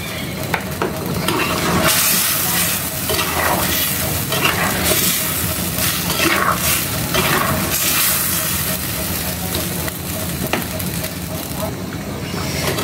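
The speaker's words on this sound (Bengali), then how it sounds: "দেখো মাংসের ঝোলটা বলক আসছে, দিয়ে দিব ভাজা জিরা ধনিয়ার গুঁড়া" Meat curry with jackfruit seeds simmers and bubbles in a pot while a spoon stirs it, a steady close sizzling and scraping throughout with occasional clinks.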